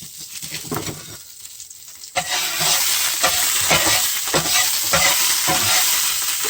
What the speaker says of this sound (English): Then I'm gonna throw my butter in there.